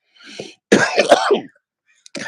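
A single harsh, throaty cough or throat-clearing burst, loud and close, preceded by a short breathy sound and followed by silence.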